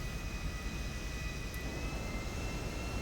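Airplane taking off in GTA 5: a steady, loud jet engine roar that holds unbroken throughout, with no speech over it.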